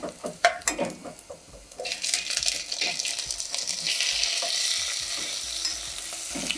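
Chopped tomatoes dropped into a hot pan of sambar tempering with golden onions, first clattering in, then breaking into a loud, steady sizzle and hiss as they fry and are stirred, close by.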